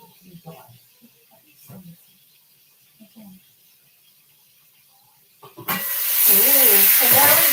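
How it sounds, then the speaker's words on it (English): Chicken fries without oil in a Saladmaster electric skillet, starting with quiet talk and small clatters before a loud, steady sizzling hiss bursts in for the last couple of seconds. "So here is our chicken all nicely frying in there"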